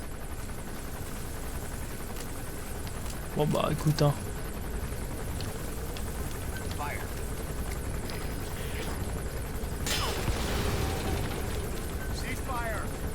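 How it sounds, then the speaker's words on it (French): Enemy gunship helicopter in Metal Gear Solid V: The Phantom Pain, a steady rotor drone running throughout, with a French-speaking voice and radio dialogue talking over it. "That's an enemy gunship."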